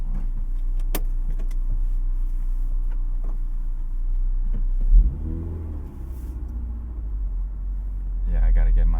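A car's cabin is filled with a steady low engine rumble while driving, with a brief surge and a voice-like murmur mid-way and a heavier rumble toward the end.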